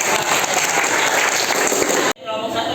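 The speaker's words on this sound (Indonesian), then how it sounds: "beri tepuk tangan untuk kelompok 1." A classroom of students applauds a group after its presentation, a full, steady burst of clapping that cuts off abruptly near the end, followed by a brief quieter moment with a faint voice.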